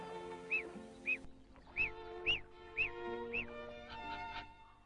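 A duck raised apart from its own kind gives six or so short, evenly spaced quacks at a quiet level, alone over a faint steady hum.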